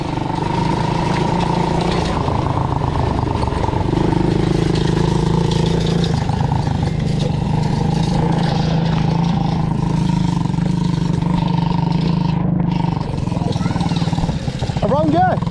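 A quad bike engine drones steadily while riding off road, a loud continuous motor hum with slight shifts in pitch and a brief whine near the end, with talking over it.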